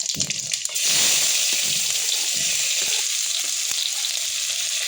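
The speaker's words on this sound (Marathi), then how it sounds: "तेल तापलेलं आहे. मोहरी घालून घ्यायची, थोडंसं जिरं आणि कांदा." Mustard seeds, cumin and onion are dropped into hot oil, and after a brief clatter a loud, sustained sizzle erupts and holds steady, with occasional light stirring taps.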